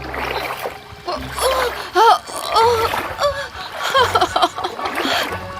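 Water splashing and sloshing as someone wades through a shallow stream, with brief voices and laughter over the churning water.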